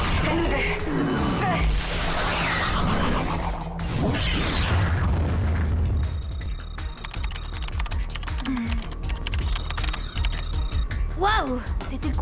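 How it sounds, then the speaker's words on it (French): A Navskid torpedo explodes in a cartoon action scene, with booming crashes and bursts over electronic effects and character voices, then settles into quieter mechanical whirs and synthetic tones. "Ça, c'était l'explosion d'une torpille de Navskid."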